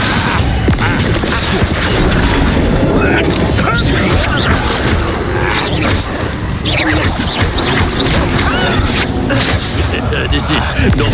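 Incendio fire spell cast during combat in Hogwarts Legacy, a loud continuous roaring burst of flame and impacts layered with dense battle noise, close and sustained.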